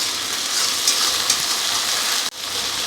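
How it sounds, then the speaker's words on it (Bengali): Spice paste sizzling steadily in a hot pan while being stirred, a continuous close hiss with a brief dip near the end, no talking. "এই যে পেস্টটা, ভালো করে নাড়াচাড়া করে নেব।"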